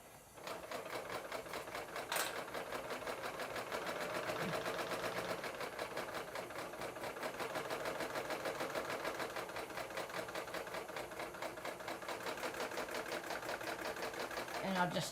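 Serger sewing machine running steadily as it skims thread whiskers off a fabric edge with its knife, a continuous fast mechanical chatter lasting throughout with a brief click near the start.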